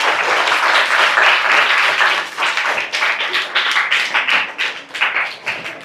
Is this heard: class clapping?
yes